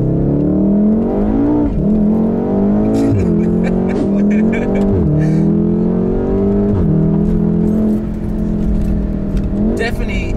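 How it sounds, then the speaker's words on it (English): A 600bhp Volkswagen Golf R heard from inside the car as it accelerates, the engine note climbing repeatedly and dropping at each gear change, loud and continuous with people talking over it. "Just a whole video dedicated to the sounds of the car."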